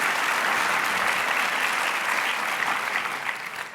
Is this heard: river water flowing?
no